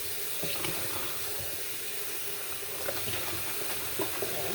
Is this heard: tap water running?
yes